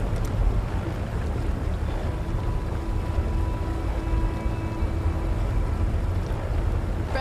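A steady wash of wind and water surrounds a ferry boat under sail in Path of Exile, a constant rushing drone with a faint tonal hum and no voices.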